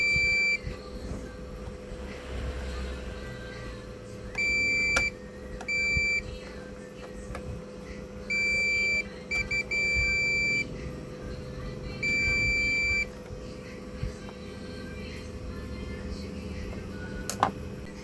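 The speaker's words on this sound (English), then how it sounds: "Beep indicates that it is connected or shorted to the pathway." Continuity-mode beeps from a multimeter probing a Devant 46-inch LED TV motherboard: several short, steady electronic tones recur at irregular intervals, each lasting about a second, over a low background hum, with no talking.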